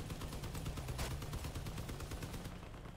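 Vehicle-mounted guns fire in rapid bursts of gunfire in the vehicle combat game Crossout, fairly faint and continuous throughout.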